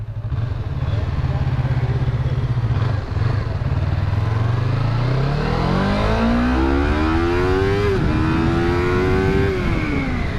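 A Yamaha MT-25 motorcycle accelerates hard nearby, its engine note climbing steadily through the gears in a loud rising whine with brief dips at each shift, under constant wind roar.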